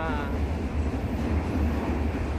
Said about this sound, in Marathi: आणखीन ट्रेनचा आवाज खूप आहे